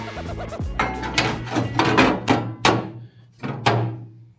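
A string of sharp metallic strikes rings out close by, about eight uneven hammer blows on car body metal with a low hum underneath.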